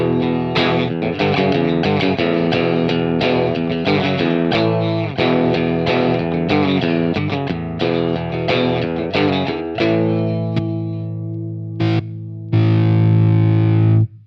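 Electric guitar through an Ibanez Soundtank CM-5 Classic Metal distortion pedal, distortion just past noon and level near unity: a fast run of chugging, gritty palm-muted notes, then held distorted chords ringing out, loud and up close.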